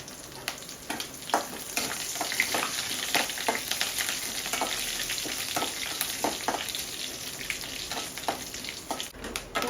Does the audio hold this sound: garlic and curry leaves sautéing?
yes